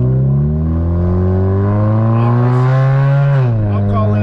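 A Chevrolet Cavalier LS Sport engine revs up close, holding a steady loud drone that climbs gradually in pitch before dropping off sharply near the end as the throttle is released.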